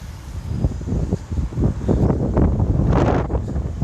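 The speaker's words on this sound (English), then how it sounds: "It's also a bit windy this morning, a bit blustery." Gusty wind buffets the microphone in loud, rumbling blasts, steady and close throughout with no talking.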